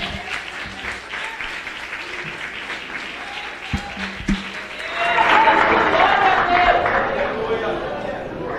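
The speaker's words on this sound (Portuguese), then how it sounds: "as palmas bem alegres para o Senhor Jesus" A church congregation claps joyfully in a worship service, applause swelling from scattered clapping to a fuller burst midway, with voices talking over it.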